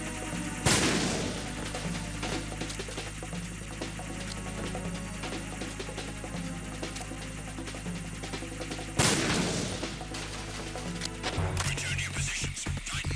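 Gunfire in the video game Metal Gear Solid 2, with two sharp loud bursts standing out over a dense, throbbing background of game sounds.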